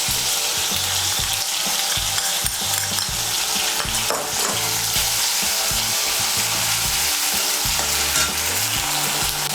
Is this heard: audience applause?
no